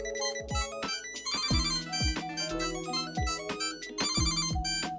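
A bright electronic AirTag alert ringtone melody plays in repeated chiming phrases, loud and close, with no voices.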